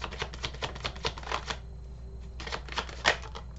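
Tarot cards drawn and handled from a deck, close and quiet: soft papery rustles and flicks in quick clustered bursts, a pause, then more shuffling with one sharper snap.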